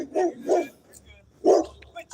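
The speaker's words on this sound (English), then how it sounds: "there goes somebody's dog barking at me" A dog barks several times at moderate distance, short loud bursts in two pairs with a gap between, over a quiet outdoor background.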